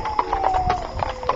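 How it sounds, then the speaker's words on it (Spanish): Horses' hooves clip-clop steadily as they arrive at a house, a run of evenly spaced hard knocks at moderate loudness with no talk over them. "escuchó los caballos que llegaron a la casa"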